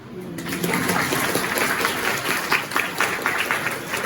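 Audience clapping at a national moot court competition festival, a steady, dense burst of applause from a large crowd, close and fairly loud throughout.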